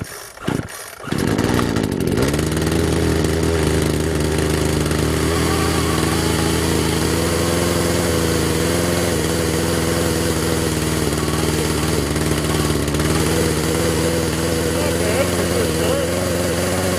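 A Poulan Pro PP4218A 18-inch chainsaw starts with a couple of rough pulls, then its small two-stroke engine settles into a loud, steady idle close by, droning evenly with slight wavering.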